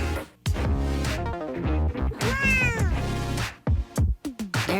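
Cartoon cat meowing loudly in a long run of drawn-out, pitch-bending yowls, then a few shorter, sharper meows near the end, with no talk over it.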